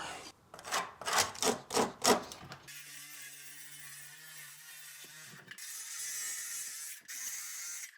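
A saw cuts through a wooden subfloor to make room for a relocated shower drain, with about five loud, rhythmic rasping strokes followed by a quieter tool whine and scraping.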